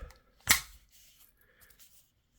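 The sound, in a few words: unfolding a Kel-Tec Sub 2000 Gen 2 carbine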